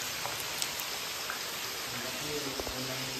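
Steady rain falls with water leaking and dripping inside the underground river cave at Puerto Princesa, a continuous wash with a few faint drips and splashes and no clear talk.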